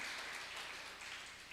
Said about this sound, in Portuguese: por favor, aplauda ele